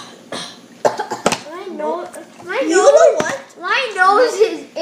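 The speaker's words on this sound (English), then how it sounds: "You guys, I need to cough." A child's cough bursts out amid lively children's chatter and play at home, with several kids talking over and around it at close range.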